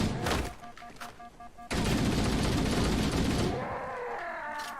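A big gun fires in Halo Combat Evolved Anniversary, first as a few sharp shots, then as a sustained loud roaring blast of rapid fire that tails into a ringing decay, all close and dominant.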